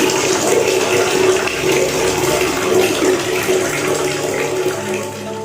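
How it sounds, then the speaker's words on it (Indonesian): A water tap turned on at night, a steady rushing stream of running water pouring continuously, close and fairly loud, with no voices. "lalu terdengar seperti orang sedang menyalakan keran"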